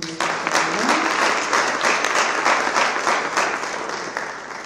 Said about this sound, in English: Can you please give another hand of applause to me?